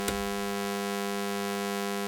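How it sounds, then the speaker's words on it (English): A saw wave from a synthesizer oscillator, patched for ring modulation without a dedicated ring modulator module, sounds as a steady, buzzy, harmonically rich drone with a brief click at the start, alone and with no talk. "So if I go from the sine wave to a saw wave"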